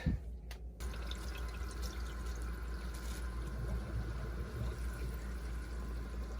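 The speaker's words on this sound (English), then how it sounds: "We're going to see the water fill up through the canisters" Water running and trickling into reverse osmosis filter canisters as a home saltwater aquarium system is switched on, a steady low wash of flow with faint drips, heard alone with no talk.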